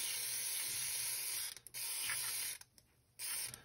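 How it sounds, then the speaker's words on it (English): Ballistol gun cleaner hisses out of an aerosol can onto the parts of a Ruger Vaquero revolver in close, loud bursts, a long spray followed by two shorter ones with brief gaps between. "I'll spray down all the surfaces that I'm gonna clean."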